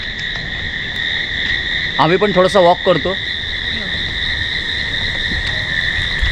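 Crickets trill at night at a monsoon resort in Malavli near Lonavala, two steady high-pitched tones running unbroken and loud throughout, while a person talks briefly in the middle.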